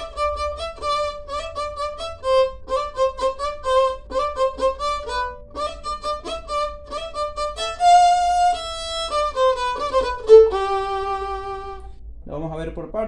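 A violin plays a lively, bouncy chamamé chorus melody of short repeated notes, then longer held tones near the end, up close and alone.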